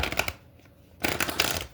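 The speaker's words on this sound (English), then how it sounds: "let's do 3 shuffles and get to it" Tarot cards are riffled and shuffled at close range in two brisk bursts with a short quiet gap between, no voices over them.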